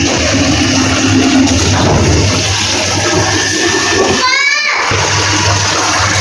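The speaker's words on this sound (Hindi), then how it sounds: "पानी भर रही हो बाल्टी में?" Water gushing into a bucket in a household washroom with no tank, filled with fresh water by hand; a steady loud rush continues throughout, briefly broken by a sharp splashing burst near the end.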